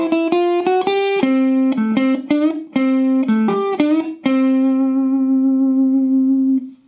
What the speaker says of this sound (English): So this lick is going to sound like this.